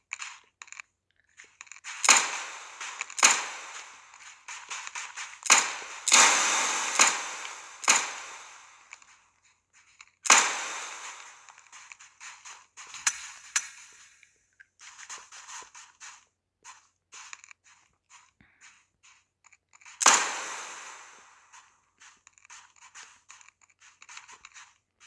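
Sharp clicks and taps from someone playing Roblox come in irregular bursts, some quick runs of clicks and some loud isolated snaps, with quiet gaps between them.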